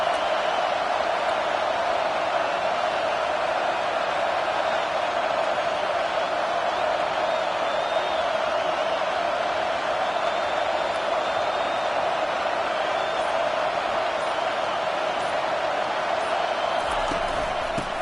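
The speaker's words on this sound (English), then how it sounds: "The roar of the crowd trying to fuel this defense to keep them pinned in their own end" A stadium crowd in an American football video game roars as a steady, dense wash of noise that holds at an even level throughout, with faint whoops rising out of it.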